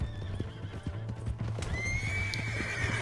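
Horse hooves clip-clop steadily alongside a loud whinny in Red Dead Redemption 2, with a rising tonal whistle and busy game ambience throughout.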